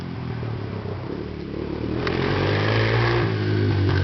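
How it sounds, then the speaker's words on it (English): A four-wheeler ATV engine revving past outdoors near a stump-burning site, a loud rumbling motor that swells and grows stronger midway, running continuously with some clatter. "oh, there's the four-wheeler"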